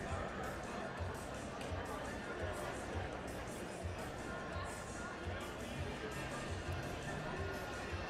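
Steady crowd chatter and babble fill a large indoor track arena during a national high school indoor meet, a dense continuous hubbub of many voices with faint thuds underneath.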